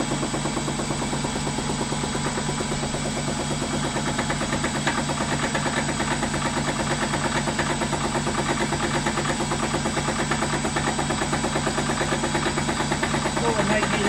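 A tractor engine idles at about 700 RPM in a shed, a steady low mechanical drone with constant vibration and a faint background hum, unchanging throughout.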